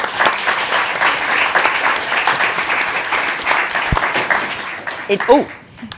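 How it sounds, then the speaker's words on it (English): Conference audience applauds a speaker at a climate and development finance event, a full, sustained round of clapping that tapers off as a voice begins talking near the end. "Vera Songway, let's give her a round of applause."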